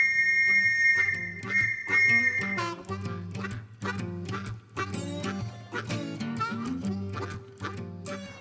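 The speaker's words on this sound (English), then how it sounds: "disturbing the peace by blowing a police whistle" A shrill, sustained police whistle blast for about two seconds over loud, rhythmic music that carries on after it stops.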